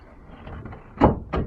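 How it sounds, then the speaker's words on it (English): Wooden trap door of a homemade racing pigeon bob trap being lifted and locked into place, a soft scrape followed by two close knocks of wood settling and latching. "lift my door up and lock into place"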